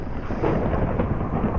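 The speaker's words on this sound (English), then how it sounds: "I felt like the thunder and rain was fitted quite well with it" Video-game thunder and rain in Minecraft: a dense, steady rumble of storm noise with rain hiss, loud and continuous, swelling slightly midway, with no voices.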